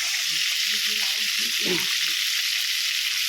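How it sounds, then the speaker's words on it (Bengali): Steady, loud hiss of crab frying in oil fills the whole stretch, with a brief low clatter of stirring near the middle. "কাঁকড়াটা পুরো ভেজে নিয়ে একদম লাল লাল করে ভাজবো"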